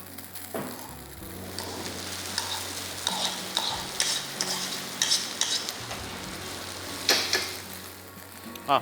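Sona Masuri rice with chives is tipped into a hot wok and stir-fried, a thud of the rice landing, then crackling sizzle with repeated scraping and tossing strokes growing livelier, close and unvoiced.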